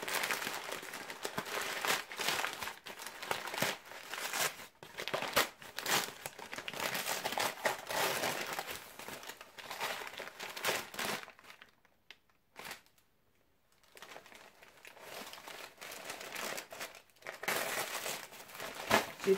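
Cardboard and plastic packaging of an advent calendar box crinkles and crumples steadily as it is pried open from the top by hand, close and fairly loud, with a short quiet gap partway through.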